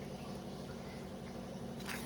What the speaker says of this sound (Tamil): குழம்பு நல்லா கொதிக்க வருது.